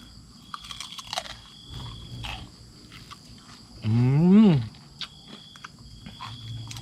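Crispy air-fried pork tail crunched in close bites, with a few sharp crackling crunches scattered through the chewing and a short hummed vocal sound midway.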